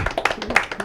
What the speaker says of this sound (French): c'est un bel applaudissement